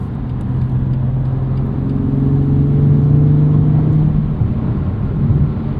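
A 2021 BMW M2 Competition with a 6-speed manual, its engine note falling smoothly as revs drop without hang, heard from inside the cabin as a steady loud droning hum with a gently descending tone over road rumble.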